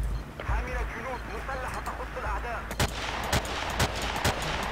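Gunfire from the Battlefield 2 video game in multiplayer combat: a few sharp, loud shots crack out in the second half over steady game background noise, with a voice talking through parts of it.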